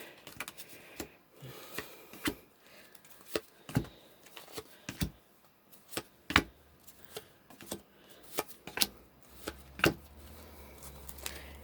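Cards are handled and cut, with a series of sharp taps and slaps at irregular intervals over quiet background, close up.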